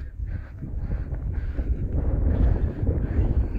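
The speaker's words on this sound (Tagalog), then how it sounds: "Hangin." Steady wind at Navacerrada rumbling and buffeting against the microphone, a continuous low roar with no talking.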